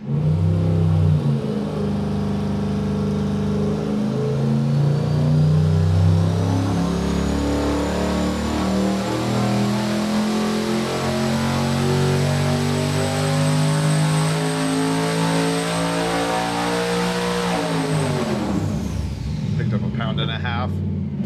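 A 1,500 hp junkyard short-block engine makes a dyno pull at 17.6 pounds of boost, nearing 1,213 horsepower. A loud, close, sustained roar climbs steadily in pitch, holds, then cuts off sharply near the end.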